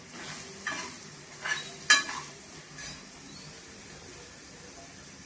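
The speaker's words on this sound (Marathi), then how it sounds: "आपण आता ह्याच्यात तीळ आणि शेंगदाण्याची पेस्ट टाकून घेऊया आणि मग एक करून मसाले टाकून घ्यायचे" Sesame and peanut paste stirred into greens frying in a pan, a soft sizzle under a few spoon scrapes and light clinks against the pan.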